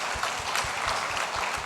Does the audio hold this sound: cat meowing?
no